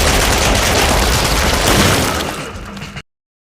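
Gunfire in a film recap scene on a burning farm, a loud dense volley of cracking shots and bursts that runs without a break for about three seconds, then cuts off abruptly.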